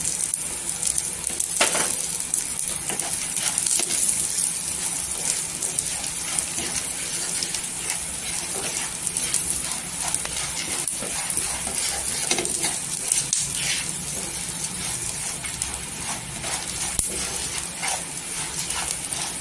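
Peanuts dry-roasting on a slow gas flame for Solapuri peanut chutney, giving a steady soft sizzle and rustle with occasional stirring scrapes throughout, close and moderate, with no talk.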